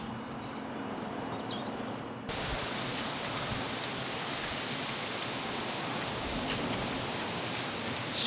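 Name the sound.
forest garden ambience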